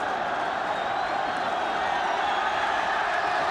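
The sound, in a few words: stadium crowd cheering and applauding Scotland's victory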